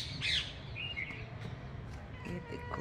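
Birds squawk and chirp in short bursts over a low outdoor rumble, a few calls standing out near the start and faint tweets scattered through the rest.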